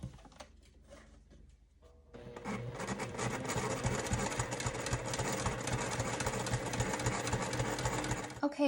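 A sewing machine stitches a bag seam in a steady, fast whirring run that starts abruptly after a quiet stretch and continues close and loud, with faint handling noises before it.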